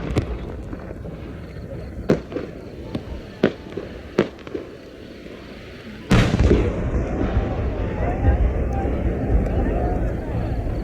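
A No. 10 firework shell at a national fireworks competition in Yatsushiro, with sharp popping bursts followed by one loud boom that gives way to a sustained crackling rumble, over crowd noise.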